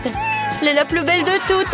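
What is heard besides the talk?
cat meowing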